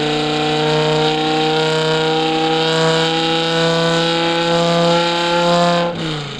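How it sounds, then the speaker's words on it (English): A V10-swapped BMW E46 M3 with individual throttle bodies holds a loud, sustained high rev with a smooth harmonic howl, then drops sharply near the end, close and alone. "we're about to hear this thing rip right now. V10, ITB, all 10 cylinders, ripping."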